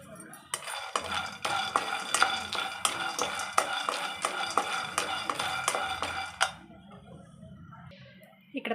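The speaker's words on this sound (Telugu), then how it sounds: "పల్లీలు కూడా బాగా వేయించుకోవాలి" Peanuts dry-roasting in a pan while being stirred, with a dense, steady rattle and scrape of nuts against metal that runs for about six seconds and then stops, leaving quiet.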